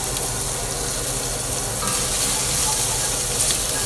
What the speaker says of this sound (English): Now that the bacon's cooked down a little bit, I'm going to go ahead and add the onion.